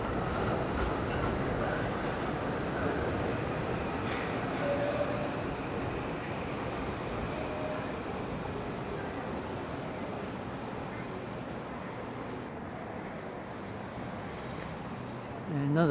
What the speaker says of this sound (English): Another bunch of trams.